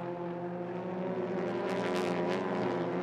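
A Hyundai TCR touring car at Dubai braking into turn 1, a loud steady engine drone with strong harmonic tones that rises slightly, heard alone without commentary.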